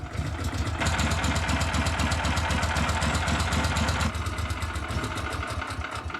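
A snowmobile engine in extreme cold starts rough with a faulty choke, giving a loud, rapid, uneven putter that runs steadily and then drops slightly in strength near the end.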